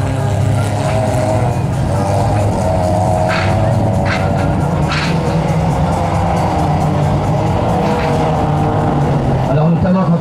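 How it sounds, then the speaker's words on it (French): 1600cc rallycross race cars on a muddy track, with engines revving and droning at mid distance and brief bursts of higher whine as cars pass, under continuous commentary. "Les voitures sont vraiment collées à la piste."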